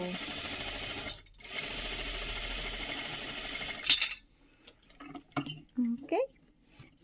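A sewing machine stitches the waist seam of a dress in a fast, steady mechanical whir for several seconds, pauses briefly, then stops, followed by soft handling clicks and a short bit of talk.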